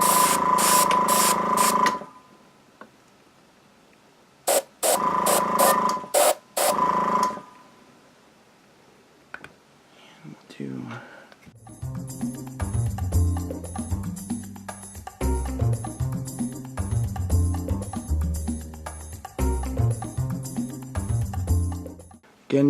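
An airbrush sprays paint onto a miniature tank in short hissing bursts separated by quiet gaps; later a busier, layered stretch of sound with a steady high tone runs on without pause to the end.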